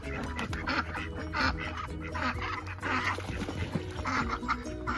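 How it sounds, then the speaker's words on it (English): Little ducks swimming in a small bathtub on a farm give repeated quacks over a steady background din, with a busy, continuous texture across the whole stretch. "here's the little ducks"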